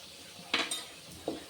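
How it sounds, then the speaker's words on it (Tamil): A metal kadai pan set down on a stove while cooking rasam, giving a couple of sharp, close metallic clanks and a lighter knock, otherwise quiet. "வானலை வச்சுக்கிறேன்"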